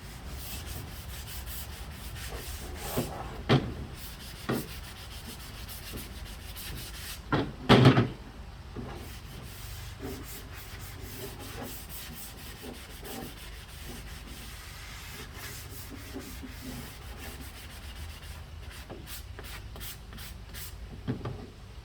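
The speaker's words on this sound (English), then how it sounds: "Just give this a quick sanding" Wooden handles of a double wheel hoe are sanded with a sanding sponge to ease the edges, giving a long run of close, steady rasping strokes broken by a few sharp knocks and clatters.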